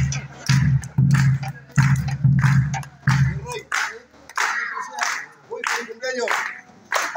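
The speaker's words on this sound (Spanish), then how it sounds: "Nos despedimos así de esta manera, pero con palmas, solamente con palmas." Guests at a birthday party clap in rhythmic bursts of hand claps, loud and close, with cheering voices and chatter mixed in around them.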